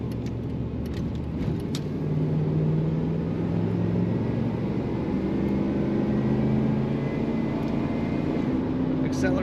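A 1990 Chevrolet Scottsdale K1500 extended cab pickup accelerates with a steady, droning engine hum and rising tonal whine heard from inside the cab, continuous and moderately loud throughout.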